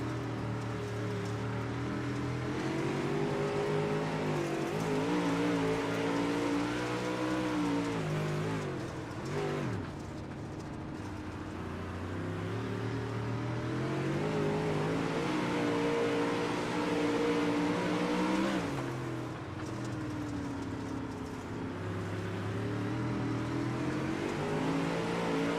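Onboard ride in a race car lapping Williams Grove Speedway, the engine roaring steadily close up with rising and falling pitch through the corners, briefly dipping twice as the car lifts off and reaccelerates.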